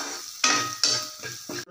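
Onions with a little salt sauté in a pan, stirred in four scraping, sizzling strokes over a steady frying hiss, close and with no talking.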